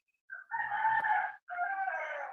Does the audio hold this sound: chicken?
yes